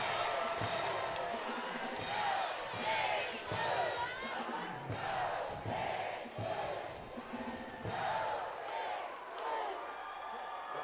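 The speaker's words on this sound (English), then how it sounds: "Listen to the crowd. They are loving it." Crowd noise at a Kentucky vs. Creighton NCAA volleyball regional final: a large arena crowd roars and cheers continuously with whoops, while a commentator talks over it.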